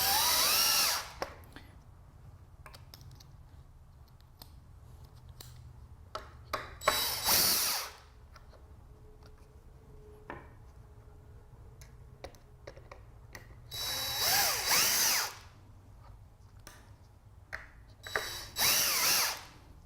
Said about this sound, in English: you're going to screw it onto your wood like this so that it holds it in place